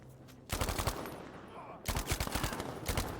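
Bursts of automatic gunfire from the Battlefield V video game come in two long, rapid fusillades of close, loud shots, with a short lull between them and a voice faintly under the din.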